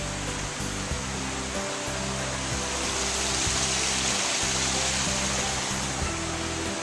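A water feature below a Costa Mesa townhouse balcony flows with a steady, broad rushing splash, constant and fairly loud throughout, with faint tonal background sound beneath.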